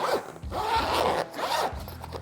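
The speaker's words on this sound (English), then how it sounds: "You also got a zipper in the front." The front zipper on a leather Pro saddlebag of a 2022 Harley-Davidson Low Rider ST runs in a few quick, loud, close-up rasping pulls, with no voices.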